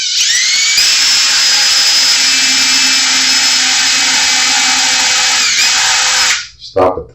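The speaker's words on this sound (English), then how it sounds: "So I'm going to drill these three." A power drill whines loudly and steadily while boring holes into a PJ bass guitar body for setting the neck, then winds down and stops near the end.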